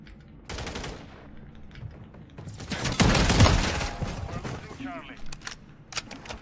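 Full-auto shotgun fire in the video game Call of Duty MW3, a loud burst of repeated blasts with one heavy volley mid-clip, mixed with game effects and voices talking over it.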